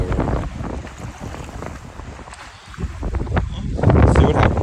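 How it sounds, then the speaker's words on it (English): Strong, gusty wind buffets the microphone on choppy lake water while kayaking, a loud, roaring rush that dips briefly and then surges again, with splashing beneath it. "That wind is really picking up in the sound. It's kicking now."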